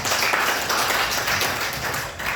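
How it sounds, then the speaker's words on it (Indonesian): A congregation claps for Jesus Christ at a Christian gathering: dense, steady clapping, loud and close, filling the short stretch without pause and with no voices over it. "Tepuk tangan dulu buat Tuhan Yesus Kristus"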